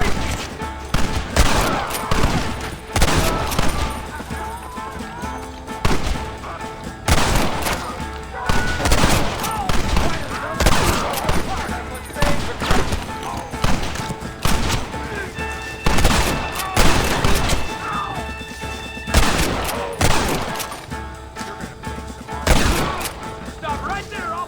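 Red Dead Redemption shootout with dense, loud bursts of rapid gunfire cracking throughout, near and far, with some shouted voices mixed in.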